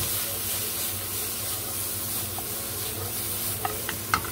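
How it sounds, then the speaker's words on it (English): Apples and onions sauté in a pan, a steady low sizzle running throughout with a few sharp utensil scrapes and clicks near the end, no voices. "Apples and the onions go in,"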